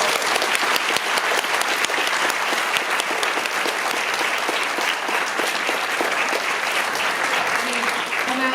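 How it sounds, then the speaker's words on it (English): Loud, sustained applause from a convention audience for a science-fiction discussion panel, dense and unbroken throughout, with faint voices surfacing near the end. "Let's give a big round of applause for our panelists"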